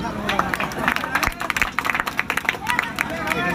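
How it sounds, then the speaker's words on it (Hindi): Audience clapping and crowd noise at a powerlifting championship break out in a dense, steady burst of many hands, with cheering voices and babble mixed through it. "जोरदार ताली हो जाए।"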